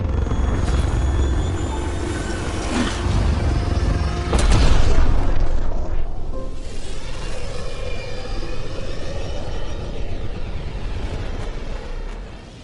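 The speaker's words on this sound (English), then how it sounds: "Nexus Control, this is the Tempest, Ident 2527, prepping to depart." In the Mass Effect video game, the spaceship Tempest departs with a loud, continuous engine roar and deep rumble, swelling to a brief heavy boom midway before trailing into a steady drone.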